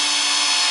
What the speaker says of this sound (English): just once in, once out while the drill's running